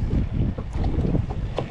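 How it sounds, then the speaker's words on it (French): An unpleasant south wind at sea buffets a small fishing boat, making a continuous loud roar of gusts hitting the microphone, with faint water and hull sounds underneath. "finalement il y a toujours un vent de sud un petit peu désagréable"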